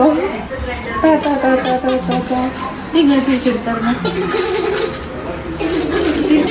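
A voice makes repeated high, chirpy squeaks imitating a parrot, mixed with other speech and talk throughout.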